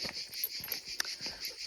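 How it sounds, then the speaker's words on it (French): Cicadas singing outdoors in a mountain setting in the Pyrénées-Orientales, a continuous high buzzing chorus at moderate level with no talk. "les cigales chantent"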